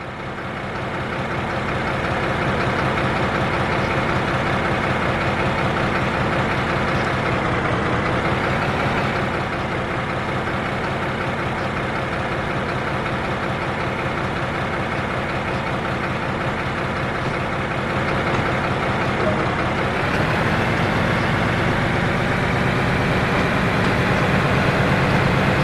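DB BR 204 diesel locomotive in a train simulator, a steady droning diesel engine rumble that rises slightly in pitch as the throttle opens and the engine works harder, continuous and loud with no talking.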